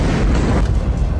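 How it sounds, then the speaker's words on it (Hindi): A missile strike explosion in Beersheba, heard as a loud, deep rumbling boom that rolls on without a break, heavy and close, with no voices over it. "बीरशेबा में मिसाइल गिरी और उसके बाद तेज विस्फोट के बाद आग का गोला उठा"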